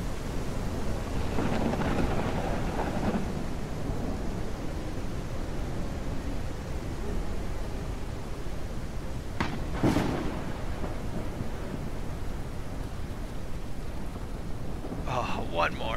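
Rain pours in Ranch Simulator while thunder rumbles and cracks, with a sharp nearby strike around the middle and another burst near the end over the constant downpour.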